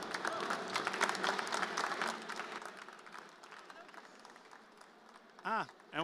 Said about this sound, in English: Give these three a warm applause.